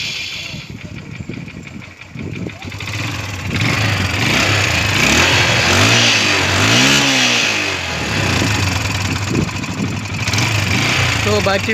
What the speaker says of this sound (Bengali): তো এখন আমরা দেখব বাইকটির সাউন্ড কোয়ালিটি